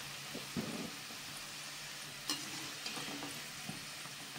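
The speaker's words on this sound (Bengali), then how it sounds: "আমি এখানে গ্যাসের আঁচটা একদম কমিয়ে রেখেছি বন্ধুরা, এগুলো যাতে আস্তে আস্তে হয়, ভিতরটাও ভালো করে যেন ভাজা হয়ে যায়" Chandrapuli frying slowly in a pan over a very low gas flame, made with homemade ingredients. A soft, steady sizzle plays alone, with occasional faint pops and a light tap.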